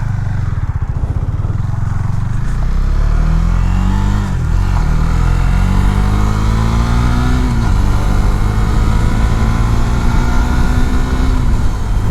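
A 2019 Husqvarna Svartpilen 401 motorcycle accelerating hard through the gears, its single-cylinder engine note climbing in pitch, dipping at each shift, then rising again, loud and close with heavy wind rush.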